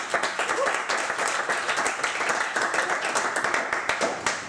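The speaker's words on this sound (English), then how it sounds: "Give yourself some applause." A roomful of people at a chiropractic college talk bursts into brisk, crowded applause, many hands clapping at once, sustained and evenly loud throughout.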